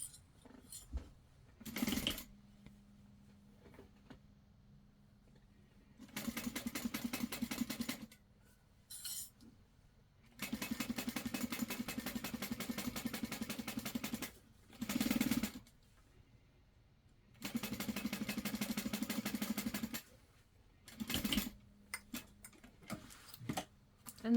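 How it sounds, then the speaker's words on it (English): A sewing machine top stitches along the top of a backpack panel in three long, steady runs of several seconds each, separated by short pauses with faint clicks and handling noises between them. "you're going to top stitch along the top there"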